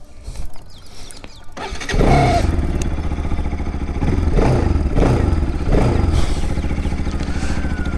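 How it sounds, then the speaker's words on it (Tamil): A modified Bajaj RS200 motorcycle engine cranks and fires up with a loud clattering roar, then settles into a close, throbbing idle with a few rhythmic surges. "இதுக்கு மேலே வெயிட் பண்ண வேண்டாம், வண்டி ஓட்டி பார்க்கலாம் கைஸ்."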